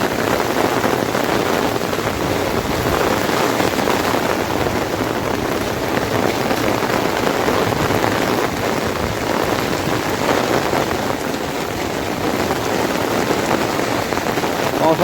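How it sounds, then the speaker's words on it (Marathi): Steady monsoon rain pours at the Deogad windmills by the sea, a dense continuous hiss of drops on surfaces that holds at a constant loud level throughout, with no voices. "पावसाचं आगमन झालेलं आहे बघा."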